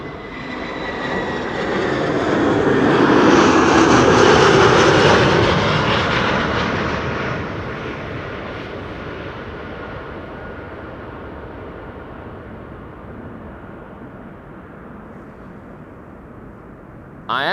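An Airbus A321 jet airliner about 17 years old arrives at Amsterdam Schiphol, its engine roar building to a loud close peak and then gradually receding into a lingering rumble.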